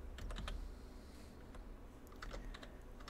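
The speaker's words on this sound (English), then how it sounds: "Oh, typing all the wrong things." Computer keyboard typing during a PC game session, quick irregular clicks of keys in short bursts, faint and close over a low background hum.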